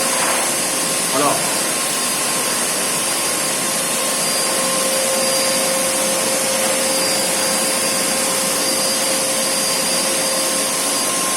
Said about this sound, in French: Et ensuite, je viens aspirer en même temps.